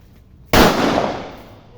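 A single sharp firecracker bang bursts out after a quiet moment, loud and close, then trails off in a fading rumble.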